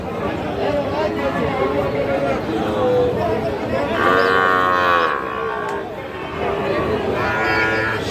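A Sahiwal bull calf at a cattle market gives a loud, drawn-out moo in the middle, with fainter lowing after it, over constant crowd chatter and nearby talk.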